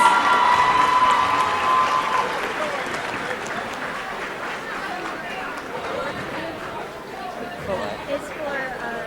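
A high school gym crowd applauds the seniors of a girls basketball team, loudest at the start and then fading into chatter and scattered claps.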